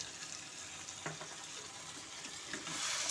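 Ground spices sizzle in a frying pan as a little water is added, a steady soft crackle with a brief splash-like burst near the middle and a slightly louder hiss toward the end.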